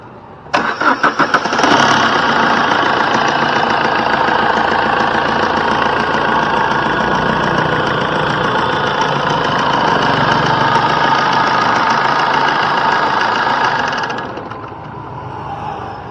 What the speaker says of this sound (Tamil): வா வண்டியோட இன்ஜின் சவுண்டு